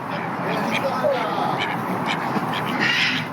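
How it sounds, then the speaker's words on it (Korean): Ducks at an animal experience cafe quack repeatedly in short bursts close by, mixed with people talking and a voice. "오리가 계속 쫓아다니네."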